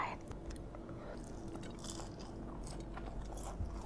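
Biting and chewing spicy Padang rice (nasi padang) in an ASMR mukbang, with close, steady crunchy mouth sounds and scraping throughout and a brief soft murmur near the end.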